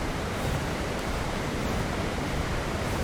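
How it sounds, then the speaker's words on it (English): Steady broadband rush of a waterfall in the game Ark: Survival Evolved, a constant, loud, even roar with no breaks and no voices, filling the whole stretch. "I think the waterfall noise constantly would drive me nuts."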